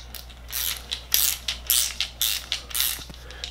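A Spyder hole saw adapter's ratchet clicks in quick bursts of rapid pawl ticks, about seven short rhythmic strokes, close and fairly crisp with no talking.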